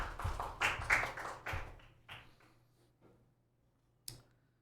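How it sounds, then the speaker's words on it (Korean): A church congregation gives a short welcoming round of applause for a newly registered member: faint, scattered hand claps in a quiet sanctuary that fade out within a couple of seconds, followed by near silence and one lone tap. "환영의 박수를 같이 드리겠습니다."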